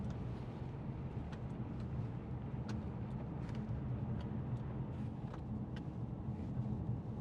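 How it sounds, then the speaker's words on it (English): Quiet, steady road and wind noise fills the cabin of a 2019 Mercedes-Benz E350d V6 on the move with its windows slightly open, a constant low rush and rumble with no talking. "thought there was a bit of road noise there"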